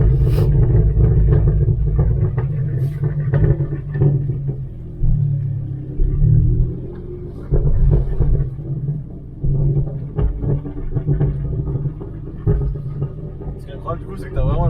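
A Ford Focus ST engine rumbles low and strong as the car is driven, rising and falling with the throttle, while a person talks over it.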